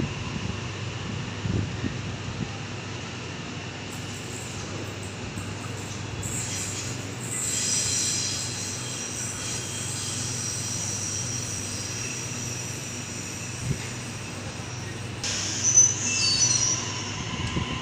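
A train at Parramatta station platform rumbles steadily and close by, with a low rolling hum and brief high squeals and hisses toward the end, no talking.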